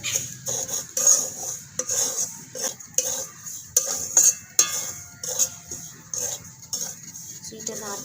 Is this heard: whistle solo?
no